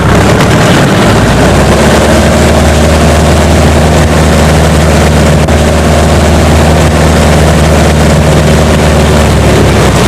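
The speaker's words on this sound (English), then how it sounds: "I'm going to give full power and bring the nose up" A floatplane's engine roars at full power, a loud, steady, low droning thrum that fills the cabin and masks everything else, with no voices over it.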